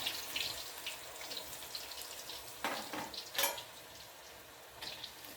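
Potatoes fry in hot oil in a pan over a wood fire, giving a soft, steady sizzle heard from close by with a few sharper crackles and spits rising above it.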